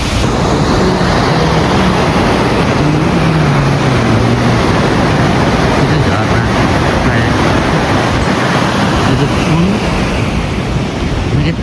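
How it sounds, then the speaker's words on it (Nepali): A flooded river rushes past in a loud, constant roar of churning water, close and unbroken, with wind buffeting the microphone. "कति धेरै ठुलो बाढी रहेछ।"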